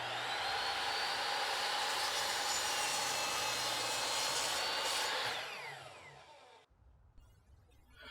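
A miter saw cuts through wood with a loud, continuous whining buzz close by. The blade spins down and the sound fades out near the end, leaving quiet room noise.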